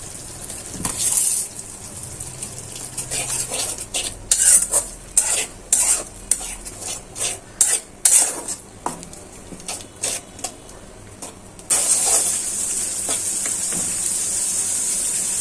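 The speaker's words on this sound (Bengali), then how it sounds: "এখন ভালো করে মশলাটা কষানো হয়ে যায়" Spice masala for a pangas fish roe curry is stirred and fried in a pan, with repeated scraping strokes of a spatula and sharp metallic clinks over a steady sizzle that swells louder near the end.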